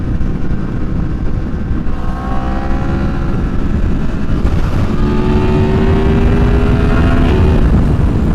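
A motorcycle engine drones loudly up close while lane-splitting through traffic, rising and falling in pitch as it accelerates, with rushing road and wind noise throughout.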